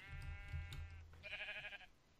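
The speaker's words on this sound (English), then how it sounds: "I think it's just sheep making the noise" Sheep in the Minecraft video game bleat in two drawn-out, wavering calls one after the other, fairly quiet against a low background hum, with no talking.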